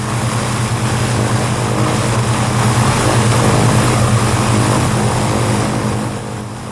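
A propeller airliner's engines run at open throttle, a loud, steady droning roar with a low throbbing hum that holds for several seconds before easing slightly at the end.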